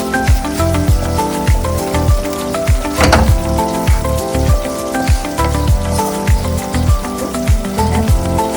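Loud, steady sizzling of masala frying in hot oil in a kadai before mutton is added, broken by regular scraping and knocking as the pan is stirred.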